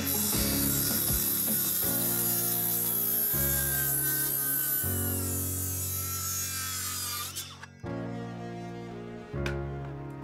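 A saw cuts vertically through the ends of wooden rafters on a garage framing build, with rhythmic rasping strokes at varying pitch, loud and close, stopping briefly before a few final strokes.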